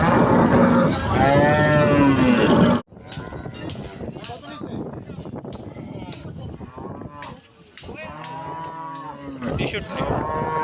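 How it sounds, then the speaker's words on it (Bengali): Cattle low loudly and repeatedly at a crowded Qurbani cattle market, with long moos at the start and near the end while market chatter continues in the background. "গরুর হাট থেকে বলছি"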